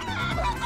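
A chicken in the video game Guacamelee! 2 gives a short, close burst of clucking over ongoing game sound.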